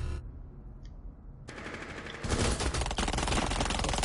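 Bursts of automatic gunfire in a first-person shooter video game played with a HORI TAC PRO controller, starting as faint rapid fire and swelling into loud, dense, continuous machine-gun volleys.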